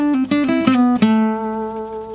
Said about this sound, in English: We're just going to be adding in that backslide into the 9th scale interval